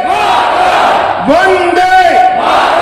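A large political rally crowd at the Petrapole land port inauguration roars a chanted slogan response, loud and sustained for a few seconds, voices merging into one massed shout.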